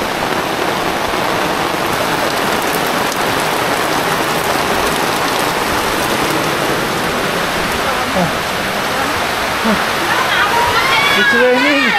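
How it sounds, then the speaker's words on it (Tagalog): Steady rain falls on a beach resort in the province, pattering and splashing loudly and close throughout, with a few faint voices in the background. "It's raining."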